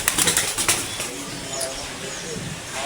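Pigeons flap their wings in a quick burst of close, fluttering beats at the start, then settle into a quieter background.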